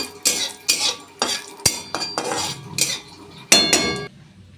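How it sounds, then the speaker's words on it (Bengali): Cumin seeds, dried chillies and bay leaf are stirred in hot oil with a metal spatula, about eight distinct scraping, clinking strokes against the pan in an uneven rhythm, close, with only faint sizzle and no talking. "শুকনো লঙ্কা তেজপাতা দিয়ে একটু নাড়াচাড়া করে দেবো"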